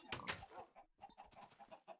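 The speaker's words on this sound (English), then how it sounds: "I just captured all the chickens again" Chickens cluck in a breeding video game, a few short, close bursts in uneven rhythm with brief gaps between them and no talk.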